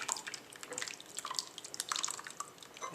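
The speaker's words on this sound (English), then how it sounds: "now let's just pour this into a bowl." Lemony asparagus soup trickles and splashes steadily into a bowl, a wet pouring sound with small drips, fairly close and without any talking.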